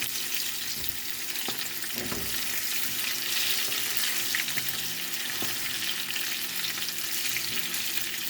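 Large potatoes fry in a pan with a steady, close sizzle and hiss, broken by a few soft stirring knocks and clinks.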